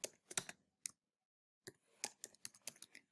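Quick bursts of clicky keystrokes on a computer keyboard, close and quiet, with a brief pause in the middle before a faster run of taps.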